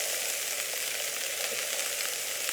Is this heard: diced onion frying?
yes